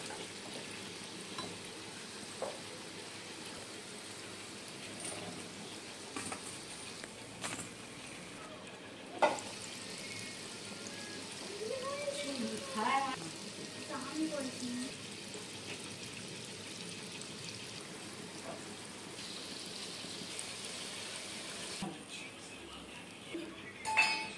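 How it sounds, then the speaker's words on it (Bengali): Palm fritters made with mashed palm fruit, flour and semolina fry in hot oil as a soft, steady sizzle with occasional stirring clinks and light spatters, faint and continuous. "এখন আমি এই মাখাটা তেলে দিয়ে তালের বড়া ভেজে নেব"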